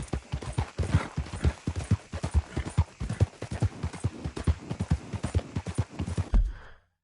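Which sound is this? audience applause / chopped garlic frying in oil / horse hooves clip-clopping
horse hooves clip-clopping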